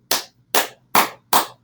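Four sharp, separate claps ring out at a slow, regular pace, each one bright and close, with short silent gaps between them.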